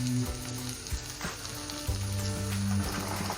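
Fish roe fries in a pan as a cornflour and water mixture is added, a loud close crackling sizzle with a few clinks and scrapes of stirring, no talking.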